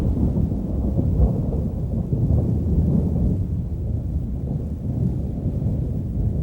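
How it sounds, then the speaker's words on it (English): A sudden thunderstorm rolls across the high plateau above Zion Canyon, a deep continuous rumble of thunder and rain, loud and low, swelling and easing slightly without pause. "A sudden storm is moving across the high plateau above Zion Canyon."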